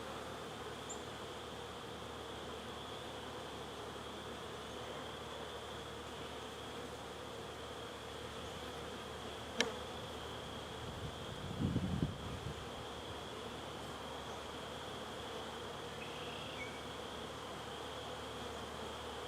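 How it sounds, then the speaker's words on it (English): Honey bees humming around an open hive during a spring inspection, a steady, dense drone throughout with a brief low rustle near the middle and no talking. "the bees don't mind you unless you hurt them or squish them"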